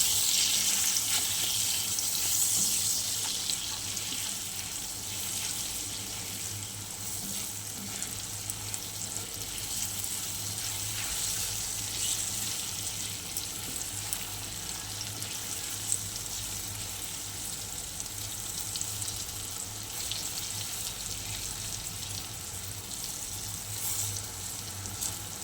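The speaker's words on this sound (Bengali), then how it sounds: "এখানে লবণ দিয়েছি, এখানে জিরের গুঁড়ো, লঙ্কার গুঁড়ো, হলুদ গুঁড়ো সব দিয়ে একটু নাড়িয়ে নেব" Salt, cumin, chilli and turmeric sizzling in oil in a frying pan for a tilapia and eggplant curry, a steady close hiss that fades a little after the first seconds, with no voices.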